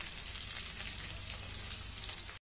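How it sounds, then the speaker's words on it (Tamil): Chopped onions for rava kichadi sizzle steadily in hot oil, a close crackling hiss that stays even until a short break near the end. "வெங்காயம் கொஞ்சம் வதங்கி வரட்டும்"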